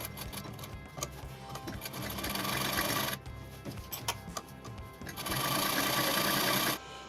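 Sewing machine stitching buckram-stiffened fabric on a child's kurta Nehru collar, close and steady, running in bursts of rapid needle chatter with short pauses between runs.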